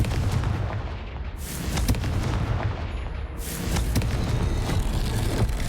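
Loud explosive blasts from the Confringo fire spell in the Hogwarts Legacy game, with two big booming bursts around two and four seconds over continuous rumbling battle noise, no talking.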